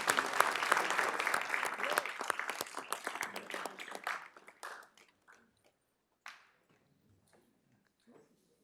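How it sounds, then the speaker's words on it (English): Audience applause at a school board of education meeting, a sustained round of clapping that fades out after about four seconds, followed by a few isolated claps and quiet room noise. "We'd also like to give a nice round of applause to the Elks"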